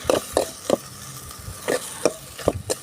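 Snake gourd seeds stir-fried in a pan: about eight rhythmic scraping strokes of a spatula, each a short, sharp rasp against the pan over a faint sizzle, with no talking.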